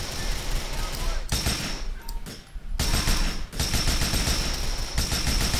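Rapid bursts of automatic gunfire in Grand Theft Auto IV rattle loudly, broken by brief pauses, with a game-like sound and some voices mixed in.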